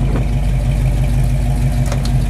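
A 1972 Camaro with a 454 big-block V8 and dual exhaust idles steadily up close, a deep, even rumble holding at a constant level throughout with no revving.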